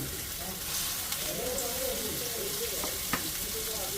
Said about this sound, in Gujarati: આ મસાલો તેલમાં નાખીએ ને તેની સુગંધ આવે.